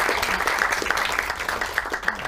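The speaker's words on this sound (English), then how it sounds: "let's have a big round of applause for" An audience gives a short burst of steady clapping after a talk about D-Day research and wartime service. The clapping is fairly close and continuous, with no speech over it.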